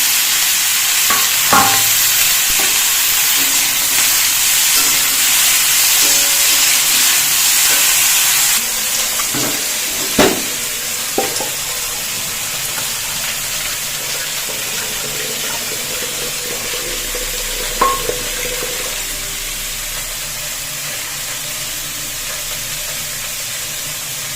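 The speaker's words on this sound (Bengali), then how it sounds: "এবার কপিগুলো একটু ভেজে নিই" Cauliflower pieces fry in a pan with a loud, continuous close hiss that runs throughout, marked by a few sharp clinks and scrapes of a utensil, with no voices.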